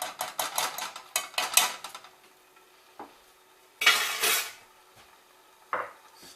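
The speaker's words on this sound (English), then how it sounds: "Stir this all together." Melted unsalted butter and minced garlic are stirred in a pan with a metal utensil, making a run of quick clinking scrapes against the pan that slows into a few separate louder scrapes, with a faint sizzle underneath.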